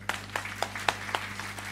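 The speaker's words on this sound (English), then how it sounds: "Please accompany me in thanking Professor Delfino with a loud clap." An audience at an international conference applauds a professor after his talk. The clapping is sparse and evenly spaced, with a few sharp claps in a steady rhythm, fairly faint over a constant low electrical hum.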